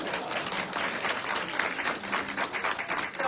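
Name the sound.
audience applause at a fashion show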